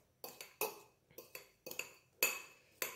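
Glue and Bom Ar air freshener for homemade slime are being mixed in a container, giving a series of sharp clinks and taps of a utensil against its sides, about eight quick hits, close and clear.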